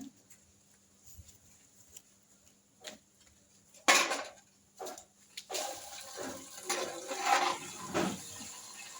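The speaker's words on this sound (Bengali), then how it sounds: "তেঁতুল দিয়ে ঘষার পর এবার আমি জল দিয়ে ধুয়ে নিচ্ছি" Tamarind-scrubbed metal utensils being rinsed under a tap, with splashing water and clinking of pots and dishes, quiet at first and then a sustained, louder run of water with scattered clatters.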